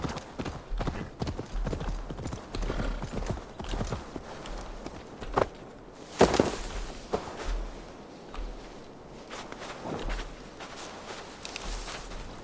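A horse's hooves clip-clop in a steady walking rhythm across ground in Assassin's Creed Valhalla, close and moderately loud, with a brief louder scuffle midway and faint game ambience underneath.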